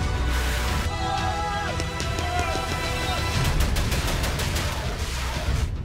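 Gunfire following a command to shoot: dense rapid shots like a fusillade or machine-gun bursts, loud and sustained over a constant roaring background, with a brief tonal sound partway through.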